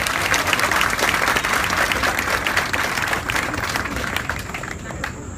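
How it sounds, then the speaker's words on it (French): Dense crowd applause fills a public meeting in Gabon, steady and loud across the whole stretch before easing slightly near the end, with no talking over it. "Je voudrais que tous nous applaudissions pour eux parce qu'ils ont été très courageux."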